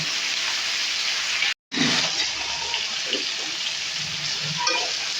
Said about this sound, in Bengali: আমি কিন্তু মাছগুলোকে ভেজে নেবো